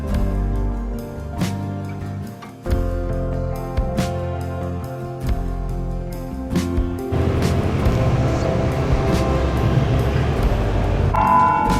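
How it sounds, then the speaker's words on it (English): A courthouse bell tower rings in Northeast Missouri, steady repeated strikes sounding through a busy outdoor wash of traffic and wind, the tone fuller and louder in the second half. "there is a bell because it's close to 1:30 on the clock up there"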